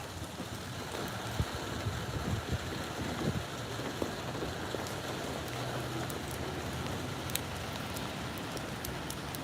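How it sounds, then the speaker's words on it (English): Steady rain keeps falling after a storm on a tree-lined street in Scottsdale, Arizona, a soft continuous hiss with scattered drips and patters, moderately quiet throughout. "rain coming down still"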